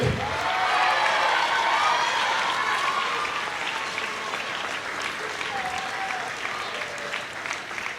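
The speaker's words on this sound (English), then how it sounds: "Let's give them all a round of applause." Audience applause fills a middle school moving-up ceremony, a steady, dense wash of clapping from a large crowd that holds at full strength throughout, with faint voices mixed in.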